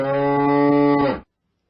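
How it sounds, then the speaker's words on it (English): A bull gives one loud, close, sustained moo that holds steady for about a second before cutting off sharply into silence. "There was a bull at Bashir's house"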